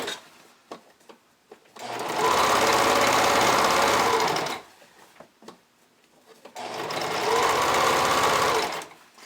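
Sewing machine running a zigzag stitch on bikini fabric in two steady, loud runs of several seconds each, separated by a pause filled with light clicks and handling noises.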